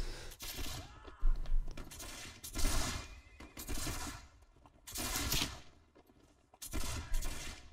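Volleys of musket fire aimed at cavalry in Mount and Blade: With Fire and Sword, crackling out in several loud ragged bursts separated by brief lulls, each volley a cluster of overlapping sharp reports.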